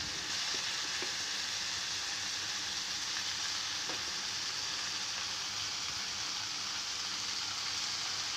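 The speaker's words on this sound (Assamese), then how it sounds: "এতিয়া কাটি থোৱা ক'লা কচুখিনি দি দিছোঁ। দি এইখিনি লৰাই থাকিম, অকণমান সময় লৰাই থাকিম।" Chopped black taro fries in a pan with oil, giving a steady, close, continuous sizzle with faint scrapes and knocks of stirring, and no talk.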